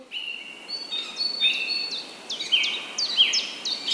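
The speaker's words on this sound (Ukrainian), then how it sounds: "Я чую цвірінь-цвірінь, цвірінь-цвірінь, пташку." Repeated high, thin bird chirps, several short tweets in quick succession over a faint background hiss, fairly close and clear.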